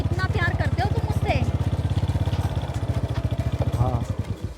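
A motorcycle engine idles nearby in a steady, throbbing pulse that holds without revving. Voices talk over the engine throughout.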